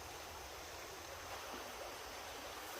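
Creek water flows steadily at a hammock campsite by a covered bridge, a faint continuous rushing wash with no breaks or voices.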